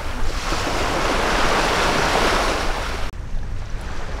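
Surf rolling in on a cold, windy beach along Florida's Forgotten Coast, with broad roaring waves and gusting wind buffeting the microphone, loud and continuous before easing slightly near the end.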